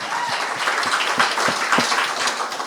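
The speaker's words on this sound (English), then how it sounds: "clap it up for that" Audience clapping with distinct individual claps audible in a steady, moderately loud patter that carries on throughout.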